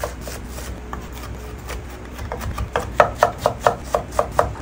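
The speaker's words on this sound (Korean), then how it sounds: "이렇게 쫑쫑 썰어 주셔야 돼요." A knife finely chops wild chives (dallae) on a board, starting with soft scattered cuts and building into a quick, evenly spaced run of crisp, close taps, with no voices.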